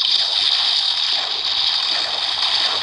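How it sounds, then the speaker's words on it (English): Flowing water in the Minecraft video game makes a steady, fairly loud bright rushing hiss that continues unbroken for a few seconds, with no voices. "water is so noisy"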